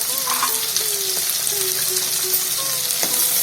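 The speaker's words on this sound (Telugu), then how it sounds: "సాల్ట్ వేస్తే కొంచెం త్వరగా వేగుతాయి" Ivy gourd (dondakaya) pieces fry in a pan with salt, giving a steady, close, loud sizzle with crackling pops and faint stirring scrapes throughout, and no voices.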